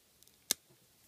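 A single sharp snip cuts through a plastic servo case, one quiet, crisp click in near silence.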